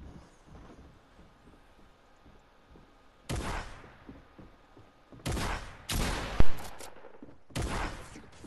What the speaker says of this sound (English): that guy hit me with the combat shotgun and it did practically no damage point blank